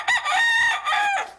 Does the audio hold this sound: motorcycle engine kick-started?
no